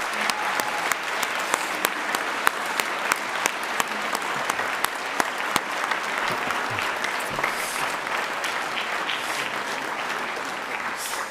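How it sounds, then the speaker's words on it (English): Sustained applause from a large audience after youth brass band performances at the Scottish Youth Championships, a dense, steady wash of clapping with sharper individual claps standing out, continuing for about eleven seconds. "we should probably give them a round of applause to everyone that took part"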